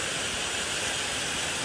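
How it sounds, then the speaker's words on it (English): Copper Creek Falls at the Wilderness Lodge resort: a continuous broad rushing hiss of falling water, even and unbroken throughout the short stretch, with no voices. "So you can see the Copper Creek Falls here."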